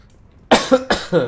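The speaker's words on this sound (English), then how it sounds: "Sorry about the coughing." Two sharp, close coughs in quick succession after a brief quiet moment.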